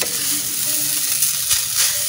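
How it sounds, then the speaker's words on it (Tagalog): Leftover rice stir-fried in a pan previously used to cook dried fish, giving a steady close sizzle with faint scraping of the spatula throughout, no talking. "yan ang gawin kong ginisa sa kanin para masarap siya."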